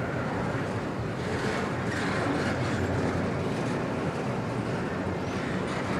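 A CSX double-stack freight train hauled by four GE locomotives rolls past close by with a steady, loud rumble and wheel noise that holds through the whole stretch without a break.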